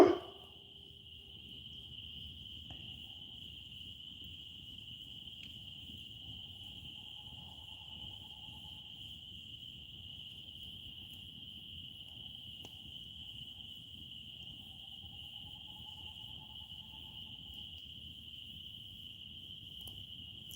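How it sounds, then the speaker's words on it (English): Night calls outdoors from frogs and loons, a continuous high insect-like chorus with faint low wavering calls rising twice in the distance, quiet and steady throughout. "Can hear all the frogs, the loons, and that."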